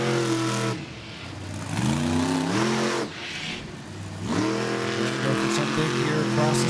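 Monster truck engine at a Monster Jam freestyle run, loud and close, revving hard in repeated surges, with the pitch climbing on each acceleration and briefly dropping off between pushes as the truck crosses dirt mounds.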